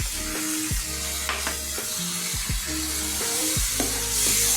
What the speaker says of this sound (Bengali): মশলাটা একটু ভালো করে কষানো হোক।